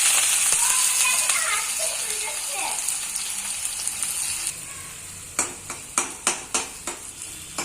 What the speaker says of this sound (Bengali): পেঁয়াজ ভালো করে ভাজা হয়ে গেছে।